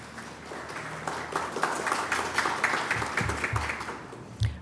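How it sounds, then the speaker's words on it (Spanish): Conference audience applauding for an industrial property official at an intellectual property course, a steady wash of many hands clapping at moderate volume for several seconds, with no talk over it. "Un aplauso."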